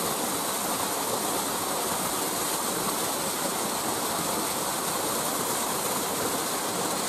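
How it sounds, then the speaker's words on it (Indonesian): A small waterfall at a fishing spot gives off a steady, dense rush of falling water that stays loud and unbroken throughout, with no voices. "Untuk air terjun kecil."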